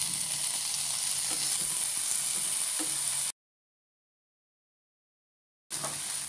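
Prawns marinated in turmeric and salt fry in a pan with a dense, steady sizzle and light stirring clicks. The sound cuts to total silence for a couple of seconds, then the sizzle returns.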